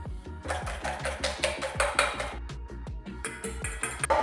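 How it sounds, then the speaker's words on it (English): Three eggs beaten in a bowl for chorizo croquetas, a fast, close, rhythmic clatter of a utensil knocking against the bowl, continuous with slight pauses and no talking. "We've got 3 eggs that we're just going to beat up"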